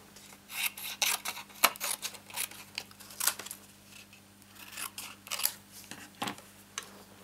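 Scissors snipping through stiff card for a greeting card, a series of crisp irregular cuts with short pauses between them, close and fairly quiet.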